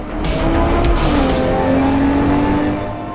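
A Toyota Supra driven in the racing game C1 Runner, its engine revving loud and close with a rising then steady tone, shifting pitch through the gears, alone without talk.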